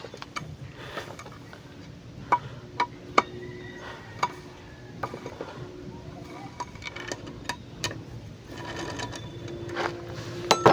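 A 10mm socket ratchet loosening a bolt on an air-cooled diesel boat engine, close rapid ratcheting clicks in bursts with sharp metallic taps between them, a faint voice in the background.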